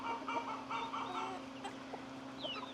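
Farm turkeys and chickens calling close by, a few harmonic clucks and squawks scattered over a steady low hum, with a faint chirp near the end.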